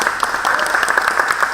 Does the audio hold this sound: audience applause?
yes